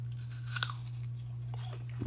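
Biting into a crunchy apple, with two quick crisp crunches near the middle and a faint one near the end, close and quiet over a steady low hum.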